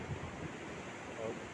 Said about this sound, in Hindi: समुद्र की आवाज़ और साथ में ये खूबसूरती।